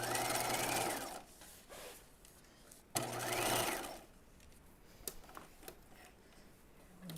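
A sewing machine runs a long, loose temporary stitch through layered denim jeans in two steady bursts, each about a second long, separated by quieter pauses with faint clicks and handling.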